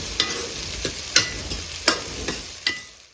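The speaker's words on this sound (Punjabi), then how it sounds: "ਹੁਣ ਇਹਨਾਂ ਨੂੰ ਵਧੀਆ ਤਰੀਕੇ ਨਾਲ ਆਪਾਂ ਭੁੰਨ ਲੈਣੇ ਜਿਵੇਂ ਨਾਰਮਲ ਆਪਾਂ ਤੜਕਾ ਭੁੰਨਦੇ ਹਾਂ" Chopped onions fry for a saag tadka in a village kitchen, giving a steady close sizzle broken by about six sharp spatula scrapes against the pan at an uneven pace, with no talking.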